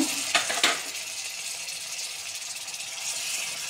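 Onions fry with ginger paste in a pan for a Bengali jackfruit and chicken curry, giving a steady soft sizzle with a couple of sharp utensil scrapes at the start, fairly quiet and with no talking.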